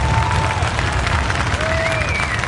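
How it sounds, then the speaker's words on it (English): A large outdoor crowd at Obama's presidential inauguration speech, cheering and clapping as a dense, steady roar of applause and voices with whistles rising over it. "They're cheering the platitudes, the specifics they don't understand"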